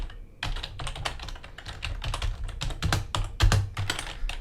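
Code is typed on a computer keyboard in a steady run of close, crisp keystrokes with a few short pauses. The clacks are fairly loud and are heard alone, with no voices.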